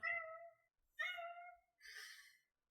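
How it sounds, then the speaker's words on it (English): A small kitten meows three times in quick succession, each call drawn out and clear, close and alone in an otherwise quiet room, the last one breathier and more strained. "A small kitty walks by."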